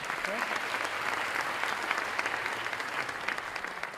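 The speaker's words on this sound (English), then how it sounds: "she deserves a small round of applause for that" An audience at a tech event claps steadily, a full, even patter of many hands held at moderate loudness for a few seconds with no speech over it.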